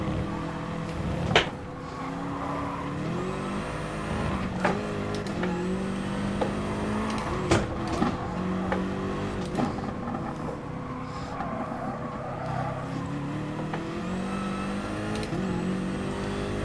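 Racing car engine in Gran Turismo Sport on an online race lobby circuit, revving up and down through repeated gear shifts, with a steady droning tone and occasional thumps, continuous and upfront.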